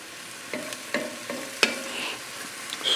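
Vegetables and meat for a pork and black bean stew sizzle in a single pot over a high flame, with soft frying hiss broken by a few stirring scrapes and clinks.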